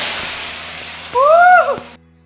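Jackfruit pieces fry in a pan of hot oil, giving a steady close hiss of bubbling froth that fades out near the end, with a brief squeaky tone partway through.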